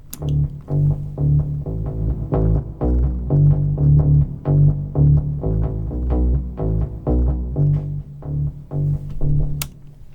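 A solo synthesizer bassline plays a steady run of short, punchy low notes with a slightly buzzy tone, looping in a repeating rhythmic phrase.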